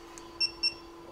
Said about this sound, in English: Press the channel button. Wait until you get this beep.